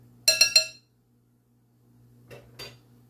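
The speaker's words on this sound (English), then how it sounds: "Get all that off the spoon here." A spoon knocks and scrapes three times in quick succession against a crockpot while clearing off chicken Alfredo, loud and close, followed by two fainter clinks after a pause over a low hum.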